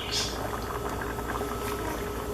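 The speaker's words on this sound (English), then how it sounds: "this has been boiling for some time" A pot of Jamaican stew peas with pig's tail boils steadily, making a continuous bubbling and hissing wash at close range with no breaks.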